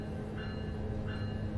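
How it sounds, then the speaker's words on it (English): A diesel-electric passenger train in the video game Train Sim World 4 on the Antelope Valley Line runs steadily, giving a low continuous engine and traction-motor drone with faint tonal whine, quiet and unbroken. "Why does this train sound like an electric? Because it's diesel electric"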